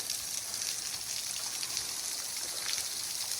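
Rain falls on the Foothills Trail, a steady close hiss of drops spattering across the ground and leaves, constant and fairly loud with no voices.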